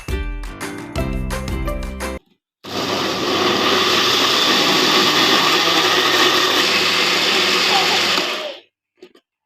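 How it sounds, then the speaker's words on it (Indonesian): Blender grinding garlic, shallots and chili into a spice paste for spicy chicken feet, a loud steady whirring roar lasting about six seconds after a short burst of music, then stopping abruptly. "sekarang kita haluskan bumbu-bumbunya dulu ya teman-teman ya"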